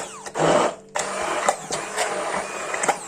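Blender pulsing diet bread dough in two short bursts, a loud whirring grind that starts, cuts off, then runs again more unevenly with small knocks.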